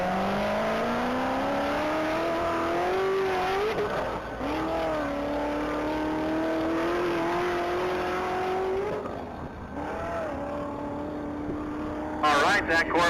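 A Corvette runs flat out at the Texas Mile, engine droning loudly through several upshifts in long rising pulls, with a voice talking over it.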